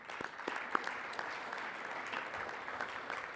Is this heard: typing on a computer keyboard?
no